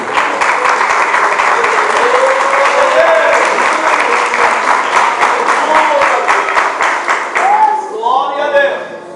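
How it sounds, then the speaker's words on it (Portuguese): A church congregation claps in praise during worship, loud, continuous massed clapping filling the room, with a voice rising over it toward the end. "A igreja se assenta, as palmas louvando, exaltando o nome santo do Senhor Jesus."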